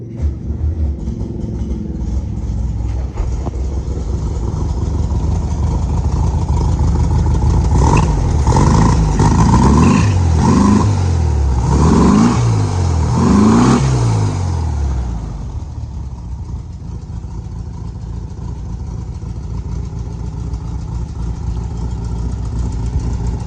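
A Porsche Speedster replica's engine runs steadily nearby, with a stretch of rising and falling revs in the middle before settling back to a low idle.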